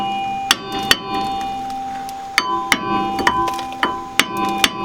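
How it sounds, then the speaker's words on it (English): A hammer strikes the rear brake rotor of a 2016 Ford Transit van to free it from the axle, producing sharp, ringing metallic taps that come singly and in quick pairs, clear and close. "just give your rotor a couple of love taps"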